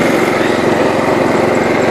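A Kohler Command Series engine on a John Deere LT133 riding mower runs steadily at close range, with an even, loud mechanical drone and a fine rapid pulse and no pauses.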